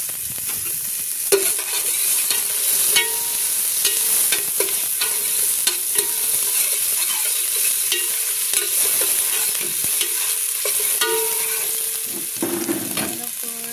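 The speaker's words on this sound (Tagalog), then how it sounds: "Ilagay na natin ang ating sibuyas." Onions sauté in a pan of oil for a fish dish, with a constant bright sizzle broken by repeated scraping stirs of a utensil against the pan.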